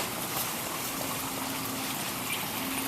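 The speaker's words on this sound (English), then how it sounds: "That water is actually going right through." Steady water from a hose hisses and trickles without pause, draining through pavers, a constant close spray of running water with no voices.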